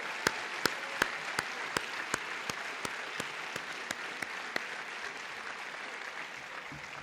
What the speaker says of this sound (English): we need to give them a big round of applause for all they did